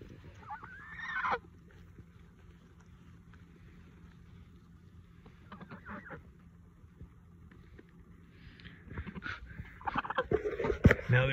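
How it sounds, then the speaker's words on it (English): Pet geese honk close by, a sharp burst early on, then quieter stretches with soft rustling before a louder, chaotic cluster of honks and squawks near the end. "I'm being mauled by geese."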